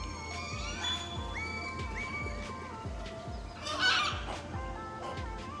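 A turkey calls at the Copan Mayan ruins, repeated gobbling and clucking notes rising over a busy outdoor backdrop of other birds, with a louder burst of calls near the middle.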